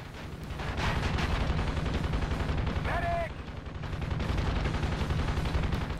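A combat helicopter's machine gun in Thunder Wolves fires a steady, rapid stream of loud shots, nearly continuous over a droning engine, with a brief dip and a short electronic chirp midway.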